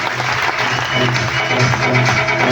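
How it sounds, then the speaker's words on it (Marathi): An audience applauds in a hall, a dense, steady clapping that runs the whole time with a low murmur of voices underneath. "शामराव वाघ सरांसाठी आता जोरदार टाळ्या झाल्या पाहिजे मित्रांनो"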